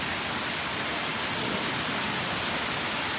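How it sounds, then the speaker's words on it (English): Waterfall inside a cave at a Japanese shrine, a loud, unbroken roar of rushing water filling the space with dense broadband noise. "Waterfall in here."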